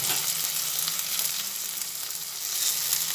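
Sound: onion and tomato frying with turmeric

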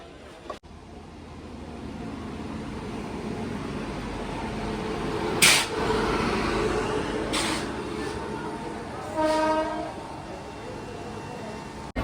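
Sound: train at Gaya Junction railway station

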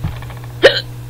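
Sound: hiccup

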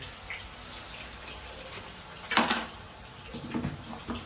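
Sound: washing banana slices in water

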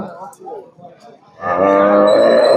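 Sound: Jersey cow mooing

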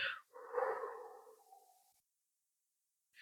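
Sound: exhaling through pursed lips, as through a straw

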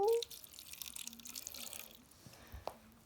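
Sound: water poured from a tap

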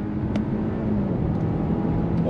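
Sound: Audi Q5 accelerating in auto mode

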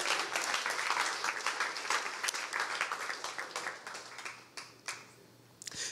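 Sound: audience clapping

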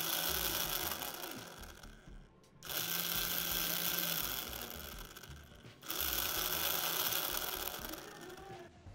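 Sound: DC motor running backward via DPDT switch

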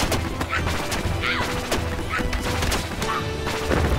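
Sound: ice explosion spell in Magicka video game

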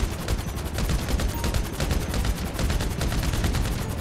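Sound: gunfire in a video game

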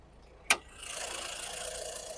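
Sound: diesel car engine running

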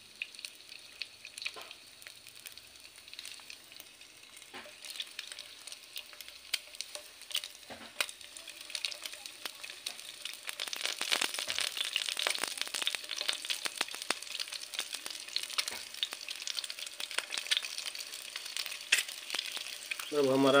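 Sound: eggs frying in oil in a pan

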